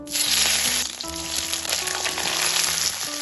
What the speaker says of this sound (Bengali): তেলটা ভালোভাবে গরম হয়ে গেছে এখন আমি এর মধ্যে দিয়ে দেবো কেটে রাখা ঢ্যাঁড়সগুলো